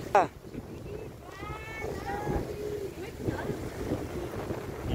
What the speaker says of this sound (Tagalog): Ang ganda dito ng hangin guys, grabe.